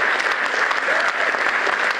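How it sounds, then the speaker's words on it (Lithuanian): A hall audience gives steady, dense applause to greet the members of a folk band at the Anykščiai culture centre's 15th anniversary concert, filling the whole moment without pause. "Taigi pasitikime juos plojimais, tegul jie prieis arčiau dabar."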